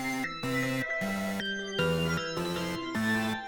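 A hyperpop beat with bright synth chords, blocky stabs switching every half second, and a deep booming 808 bass underneath; steady and loud, no voices.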